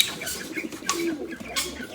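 A pigeon coos in short, soft bursts close by while turning in circles, with a faint flutter and no talking.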